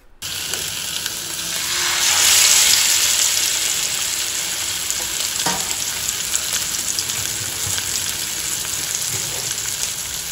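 Fish frying in a pan on a cooking show, giving a loud, steady sizzle that swells over the first few seconds and then holds, with a small clatter midway and no talking.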